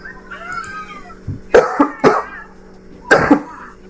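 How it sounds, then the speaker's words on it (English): Several sharp coughs from a sick person, a pair close together then another after a pause, loud and near, with a faint tonal sound before them. "I'm still kind of sick, so if you hear me coughing a lot, sorry about that."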